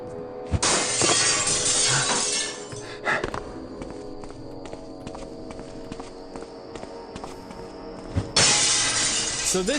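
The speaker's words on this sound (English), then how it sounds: "I'm gonna break 2 bits of glass." Glass shatters twice in the video game Thief II, one loud crash near the start and another near the end, with footsteps and scattered clinks of debris in between.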